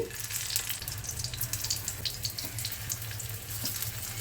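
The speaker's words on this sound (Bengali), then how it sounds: "তেলটা আমার গরম হয়ে গেছে এবারে আমি টিক্কিগুলোকে হালকা হাতে বসিয়ে দিচ্ছি" Beetroot-potato tikkis are laid into a pan of hot oil and sizzle with a steady, close crackling hiss. Fine pops are scattered over the sizzle, and no one talks.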